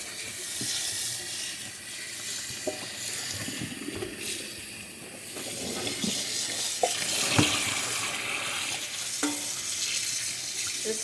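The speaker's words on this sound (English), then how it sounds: "so I just have to rinse it out, and then it just has to slowly drip dry in the sink" Water runs into a sink while a freshly dyed sweater is rinsed out, a continuous splashing hiss broken by occasional knocks and sloshes close by.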